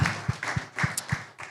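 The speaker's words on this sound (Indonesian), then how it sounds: "boleh dong tepuk tangan sekali lagi biar lebih seru" Brief burst of audience applause at a Festival Gunung Ciremai dialogue event in Kuningan, with sharp low claps recurring in quick bursts through a short stretch.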